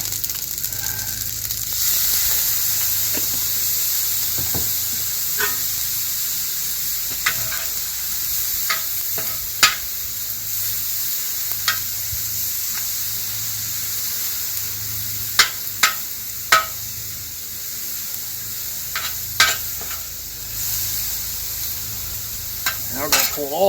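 Pasta sizzles and fries on a discada while being stirred, a steady crackling hiss broken by repeated sharp scraping clicks of the utensil against the metal.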